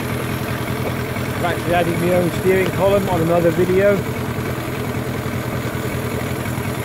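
A 15hp outboard motor idles steadily close by, a low continuous mechanical drone running under a man's speech throughout.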